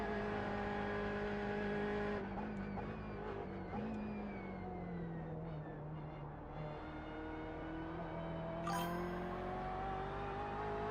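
A BMW GTE race car engine screams at full throttle on the Nürburgring Nordschleife in a racing game, a loud, sustained high-pitched drone that shifts pitch briefly as the car changes gear, with no voices over it.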